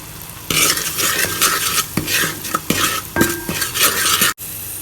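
Crushed green chilli and seasoning being stirred in a frying pan, a spoon scraping and clinking against the metal in quick, uneven strokes over a light sizzle, heard close up with no one talking.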